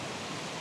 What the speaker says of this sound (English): So, waterfalls in Laxey